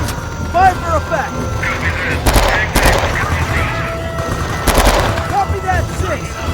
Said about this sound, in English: Machine gun fire, possibly 50 cal.